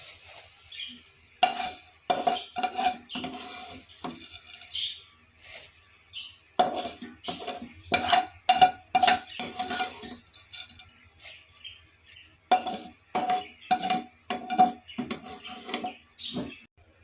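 A spoon stirs vermicelli into boiling milk in a pot, giving bursts of scraping and clinking against the metal in uneven rhythmic runs, separated by short pauses, close and fairly loud with no talking.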